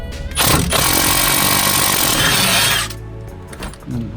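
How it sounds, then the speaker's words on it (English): A 17 mm spanner holds while a corroded stabiliser link nut on a Vauxhall Meriva is eased off; a loud, buzzing mechanical burst runs for over two seconds, then fades into scattered clanks. "we're going to hold with the 17 spanner at the back and ease it off."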